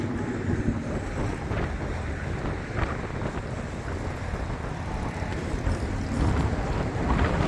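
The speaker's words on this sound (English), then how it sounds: "it's windy" Strong outdoor wind near a crossing gate arm and bridge roars steadily into the microphone, a dense, continuous rush and rumble with slight surges, with no talking heard.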